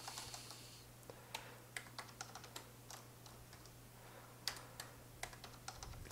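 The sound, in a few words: typing on an English computer keyboard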